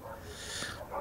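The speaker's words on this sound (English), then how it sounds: "I don't know what the damn dogs are barking at." Dogs bark and whine outside at night, a brief run of canine yips and cries heard at moderate distance in the open air.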